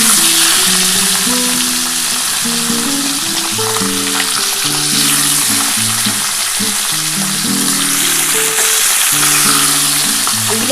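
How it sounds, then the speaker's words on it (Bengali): The remaining parshe fish pieces sizzle loudly and steadily as they fry in hot oil, a continuous crackle with a faint tonal background and no talking. "যে তেলটা আছে এর মধ্যে এবার বাকি মাছগুলো দিয়ে দিচ্ছি"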